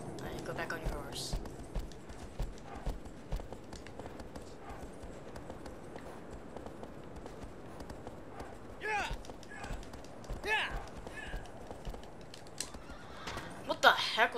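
Horse in the Shadow of the Colossus video game on PS3 whinnies and gallops with repeated hoof beats, mid-distance, while a person talks over the game sounds throughout.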